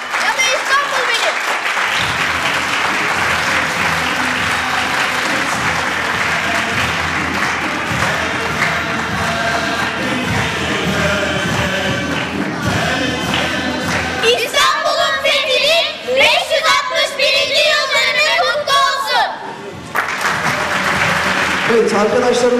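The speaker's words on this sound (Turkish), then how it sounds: "Alkışlarla gönderelim kendilerini." A school performance audience at an event in Türkiye claps and cheers in a long, continuous, loud round of applause, with music and an announcer's voice mixed in.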